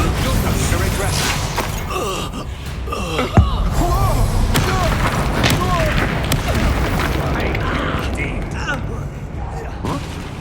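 Bombarda explosion spell in Hogwarts Legacy, a single sharp boom bursting out of busy combat noise, with shouted spell incantations and voices throughout.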